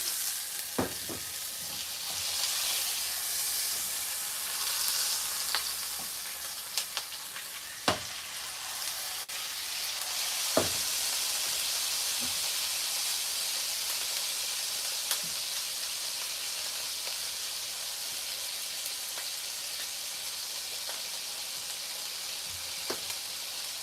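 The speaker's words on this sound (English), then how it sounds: "So now we're going to sear the outside of the steak." A Hawaiian tomahawk steak sears in a hot pan, giving a steady, close sizzle and crackle with a few sharp pops and utensil clicks scattered through, and no talking.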